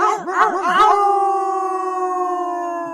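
A loud, close howl from a lone wolf: a few wavering, rising and falling cries, then one long steady note that slowly fades away.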